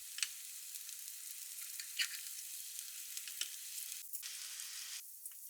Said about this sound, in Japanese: ピーマンを焼きます。